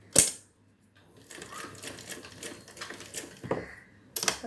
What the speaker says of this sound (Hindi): बस ये देखिए फिटिंग की सिलाई लगाई मैंने।